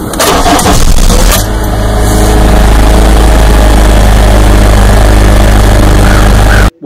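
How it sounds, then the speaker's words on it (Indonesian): A car engine cranks and catches after sitting unused for a long time, then settles into a loud, steady, rough idle with a low drone that runs to the end, no voices. "Ketika mesin mati dalam waktu lama, kemudian dihidupkan, biasanya akan ada suara berisik beberapa saat."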